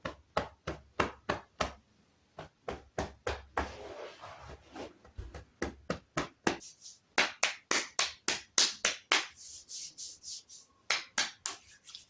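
Fingers or knuckles tap on the body in quick, crisp rhythmic bursts of about four or five taps each, close and clear, separated by short pauses, with no talking.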